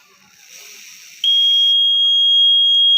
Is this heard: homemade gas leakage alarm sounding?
yes